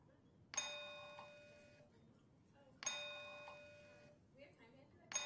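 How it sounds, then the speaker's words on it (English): A bell rings three times to signal time at a symposium. Each ring is a bright metallic strike that decays slowly over about a second, with brief pauses between strikes and low room noise underneath. "This is our first bell."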